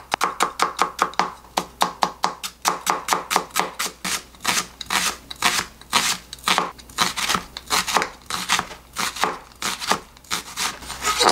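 A knife thinly slices a large onion of about 300 g on a cutting board for pickled onions, making quick, close, rhythmic chopping taps that repeat steadily in short runs with brief pauses.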